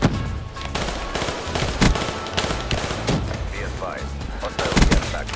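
Gunfire in Black Ops 3: bursts of automatic shots and single cracks run through the whole stretch at a steady, moderately loud level, with brief game sounds in the gaps.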